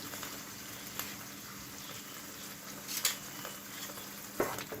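Ginger garlic paste fries in a pan of hot oil for a mutton curry, a faint, steady sizzle with a few soft scrapes and clicks from stirring.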